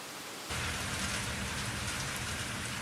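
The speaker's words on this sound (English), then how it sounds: "I watch the rain bounce off the hard ground. I listen to it tap on the roof of the passenger car." Steady rain pours down after a sudden start, a dense hiss of drops pattering on hard ground and tapping on the roof of a stopped train's passenger car, continuous and fairly close.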